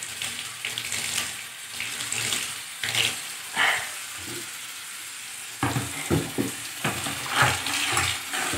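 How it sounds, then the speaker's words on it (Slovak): Water runs from a tap into a bucket, a steady splashing rush with clattering bumps and shifts in flow, heard close up and without voices. "Teraz počkáme, dokým sa napúšťa živná voda"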